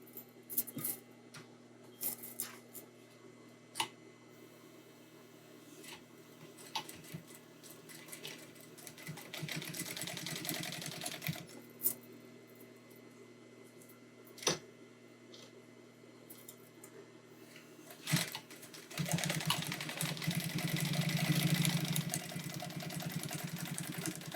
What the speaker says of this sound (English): sew down both of these sides with a 1/2 inch seam